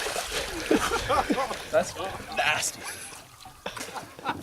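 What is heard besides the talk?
water splashing as a person bathes in a cold lake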